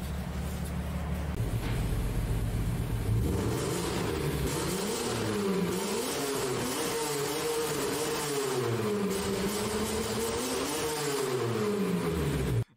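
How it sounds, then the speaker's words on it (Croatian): A car engine revs through its exhaust on a yacht trip along the Adriatic islands, first idling roughly, then rising and falling in repeated throttle blips, close and steady with no speech. "sad ćemo davat gasa pa ćete u komentare napisati koji se bolje čuje"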